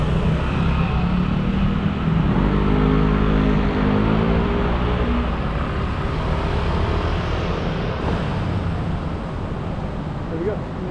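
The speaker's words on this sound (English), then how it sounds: "Let me see those cars." Cars passing on a street in Macau, a broad loud roar of traffic rumbling close by and then easing off toward the end, with street noise mixed in.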